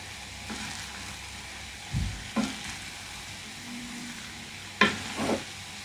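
Potatoes fry in a pan for a Bengali potato bhaji, a steady low sizzle with a few scattered stirring scrapes and clinks near the middle and the end.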